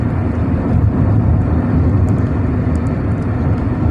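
A Daewoo Nexia 2 driving: a steady, loud engine drone and road rumble heard from inside the car, with no break for the whole stretch.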